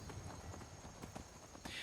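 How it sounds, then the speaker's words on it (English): Horse hooves clip-clopping in the video game Skyrim, a steady rapid rhythm of close, muffled clops over a constant background hum, with no talking. "Having our horse will make the trip a little bit faster."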